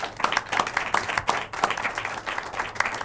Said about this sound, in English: let's maybe perhaps a round of applause for our wonderful panelists